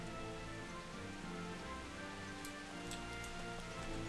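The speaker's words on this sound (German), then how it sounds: "Es regnet ja schon wieder." Steady rain falls in the medieval video game Kingdom Come: Deliverance, a continuous hiss with soft scattered drops running through the whole stretch, with no talk over it.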